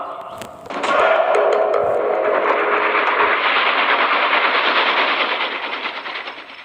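A train runs steadily as a sound effect in a Bengali audio story, a broad rumbling clatter that swells in after about a second and carries on alone without talk before easing slightly at the end.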